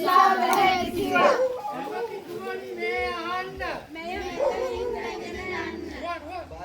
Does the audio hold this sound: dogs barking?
yes